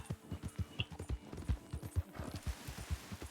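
A black horse named Jet trots in Red Dead Online, its hooves clip-clopping in a steady, close, rhythmic pattern with a faint whinny, heard alone without talk.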